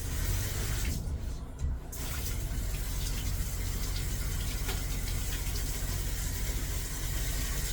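Tap water runs steadily into a tub being filled for bathing a sheep-a-doodle dog, a continuous close rushing splash that holds for the whole stretch with only a brief dip near the start.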